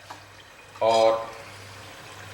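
Water is poured into a pan of fried mutton korma masala in a short splashing burst lasting about half a second. A voice is heard faintly beside it.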